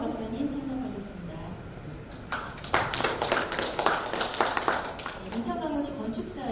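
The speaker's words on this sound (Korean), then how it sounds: "박수로 인사 부탁드리겠습니다" Scattered applause from an audience at a public hearing greets a panelist, a burst of clapping rising midway and fading after a few seconds, with a voice talking before and after.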